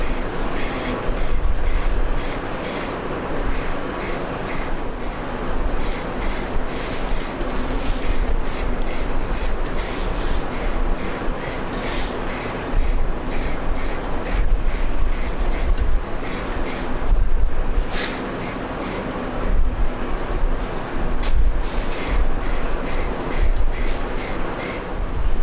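Epoxy paint is sprayed onto parts of a 1982 Ford F150 4x4, producing a loud, continuous hissing spray broken into repeated short bursts and pauses, close by, with no talking.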